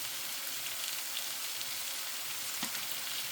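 Noodles stir-fry in a pan with a little soy sauce, giving a steady, close sizzling hiss with a faint scrape of stirring partway through.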